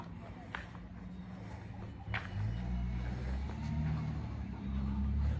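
Cars passing along a street during an evening walk, a low rumble swelling as a vehicle approaches and goes by, steady and moderately close, with a few faint clicks.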